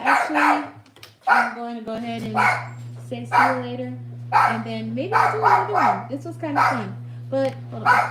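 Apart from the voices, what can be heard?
dog barking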